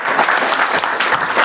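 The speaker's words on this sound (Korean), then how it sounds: "잘했다고 박수 쳐주신 거죠? 네. 다시 한번 치겠습니다." Brief burst of applause at a government cabinet meeting, a room of people clapping steadily and fairly loud for about a second and a half.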